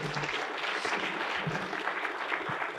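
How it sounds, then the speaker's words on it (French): An audience at a talk on water management technology gives sustained, dense applause, loud and close throughout. "On peut l'applaudir pour cet exposé."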